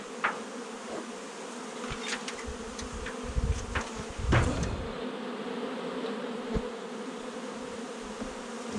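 Honey bees buzz in a steady, dense hum from an opened, crowded hive, with a few brief knocks and clicks from hive tools partway through and no talking.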